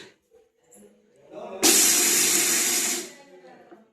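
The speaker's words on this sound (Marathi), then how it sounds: "चालू करतो मिक्सर" A mixer grinder whirs loudly for about a second and a half, finely grinding pieces for a Konkani dhondas made on a wood stove, then cuts off; faint talk and kitchen noises surround it.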